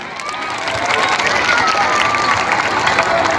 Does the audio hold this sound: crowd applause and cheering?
yes